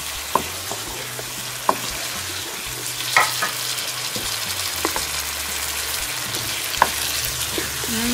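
Potatoes frying with masala in a pan for aloo korma, a low steady sizzle punctuated by sharp spoon knocks and scraping stirs at irregular intervals, close by and with no talking.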